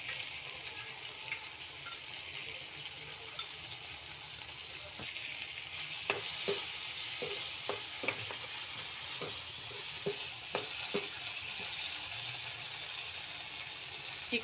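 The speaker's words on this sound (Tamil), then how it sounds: "ரெட் சில்லி சாஸ் நல்லா போட்டு ஒரு வதக்கி விடுங்க." Chilli chicken masala sautéing in red chilli sauce, a continuous close sizzle punctuated by a rapid series of sharp spatula clacks against the pan in the latter half.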